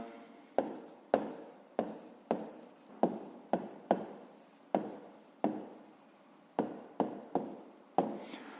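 Pen writing a maths answer by hand on paper, with a steady run of close, crisp scratchy strokes, each starting with a sharp tap and trailing off, repeating roughly every half second with no talk.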